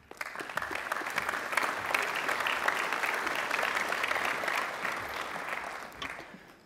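A large audience at a secondary school awards ceremony claps in a dense, even roar of applause that holds steady for several seconds and then fades away.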